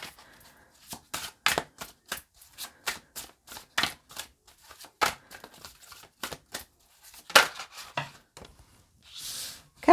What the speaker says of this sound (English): you need a lot of shuffling here